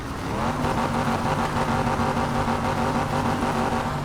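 A race car engine in a Need for Speed game holds a loud, steady high-rev drone with a buzzing harmonic whine, continuous and close, with no talk over it.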